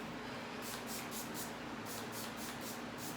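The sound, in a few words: spraying leave-in conditioner on hair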